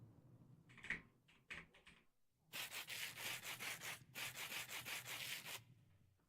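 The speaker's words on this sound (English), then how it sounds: "And then the sandpaper." Sandpaper rubbing on a surface: a few short scattered strokes, then a steady run of rapid back-and-forth scrubbing strokes, fairly close and moderately loud, with no talking.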